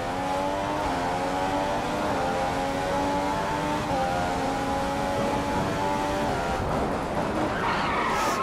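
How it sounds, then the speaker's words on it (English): Race car tires skidding under a hard wheel lockup in the F1 2015 video game at Monaco, a loud, sustained screech with engine harmonics that holds steadily for several seconds before breaking up near the end. "I just locked up really, really bad there."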